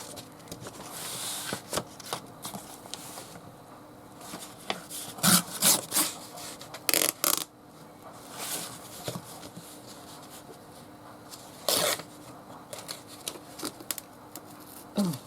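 Pieces of plain material are torn off for a divided storage box: a run of scattered ripping and rustling bursts, some sharp and loud, with quieter handling and shuffling between them.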